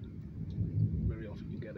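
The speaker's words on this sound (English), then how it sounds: "Very loud lightning and thunder." Thunder cracks and rumbles during an outdoor lightning storm, a short loud low boom swelling in the middle of the moment before easing back to a steady dull roar.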